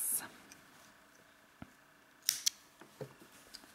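Scissors snip off the excess yarn from a rose gold crochet neck warmer with two or three quick, close, crisp cuts amid faint handling noises.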